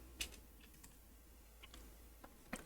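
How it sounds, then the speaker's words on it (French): Light keystrokes on a computer keyboard, a few faint scattered clicks over quiet room background. "si je tape Salma Hayek"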